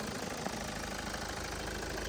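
A Kia Sorento 2.2 diesel with automatic transmission idles steadily, a low even mechanical hum with faint knocking texture, continuous and close, with no voices.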